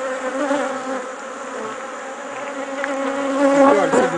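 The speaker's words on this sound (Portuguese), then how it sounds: "Olha, você vê o quadro todo coberto de abelhas." Honey bees swarm over a hive frame during farm beekeeping work, making a dense, steady buzzing hum close by that keeps going without a break.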